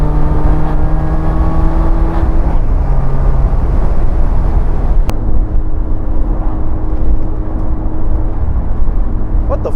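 A supercharged Mazda MX5 driving hard, its engine droning loud and close with rising whine as it accelerates, steady road and wind roar throughout.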